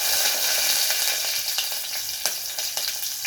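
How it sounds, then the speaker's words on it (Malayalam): Green chillies sizzle and crackle in hot oil with mustard seeds inside a pressure cooker, making egg curry: a steady close frying hiss with scattered sharp pops and spits throughout. "ആൻഡ് നമ്മൾ കുറച്ച് പച്ചമുളക് ഇട്ടു."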